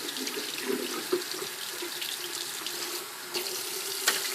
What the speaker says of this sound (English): Let's just run some straight water right on it.